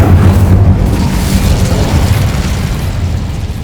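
A fire spell, Incendio, is cast in the video game Hogwarts Legacy, bursting out as a loud, dense whoosh and roar that fills the whole clip and slowly eases off, with no talking.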